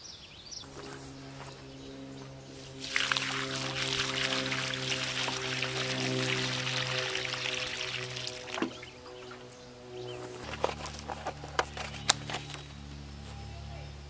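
Water pours steadily onto a planted fruit tree on a farm in a broad rushing stream for several seconds, then stops, over a low steady engine-like hum and a few faint clicks.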